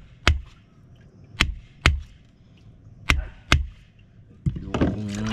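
A dull knife hacks through hard fish bone in five sharp, separate chops spread over a few seconds, loud and close, at a catch-and-cook spearfishing camp in the Philippines, followed by a burst of other noise at the end.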